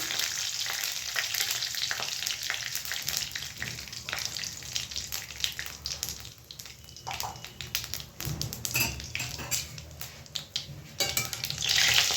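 Cinnamon pieces, bay leaves and cumin seeds sizzle in hot oil, a continuous close frying hiss punctuated by scattered light taps and clinks of a utensil against the pan.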